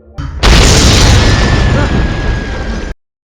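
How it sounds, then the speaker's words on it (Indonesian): A loud explosion bursts in and roars on as a sustained rumbling blast for a couple of seconds before cutting off abruptly. "ledakan yang terjadi tak lama kemudian memperburuk segalanya"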